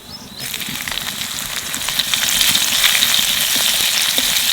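Cumin seeds and chopped green chili fry in a hot pan, a steady close crackling sizzle that swells louder after the first seconds and holds, with no talking.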